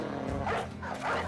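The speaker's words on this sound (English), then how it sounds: "Dog." A dog barks in the medieval mercenary video game Battle Brothers, a short pair of yelping bow-wow calls over a dense, continuous game soundtrack and ambience.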